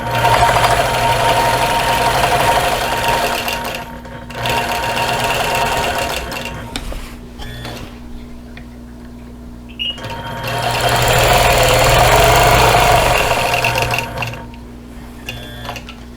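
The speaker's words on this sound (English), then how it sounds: "stitch in the ditch up to the top corner here" A sewing machine stitches in the ditch along a quilt seam, running in steady mechanical bursts with a rapid, even stitching rattle. It pauses briefly between runs, close and loud.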